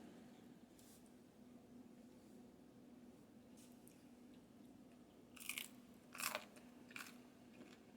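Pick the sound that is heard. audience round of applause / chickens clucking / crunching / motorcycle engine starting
crunching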